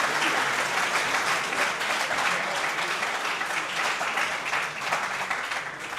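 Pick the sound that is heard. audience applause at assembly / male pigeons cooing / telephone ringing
audience applause at assembly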